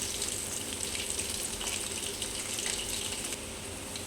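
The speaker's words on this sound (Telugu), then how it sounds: "మంచిగా 2 వైపులా మంచిగా ఫ్రై అవుతాయండి." Chicken pakoda deep frying in hot oil gives a steady, dense sizzle that fills the whole clip without pause or talk.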